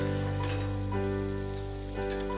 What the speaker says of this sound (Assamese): এটাকৈ মালপোৱাকেইটা তেলত দি গৈছোঁ